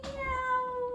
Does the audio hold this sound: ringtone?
no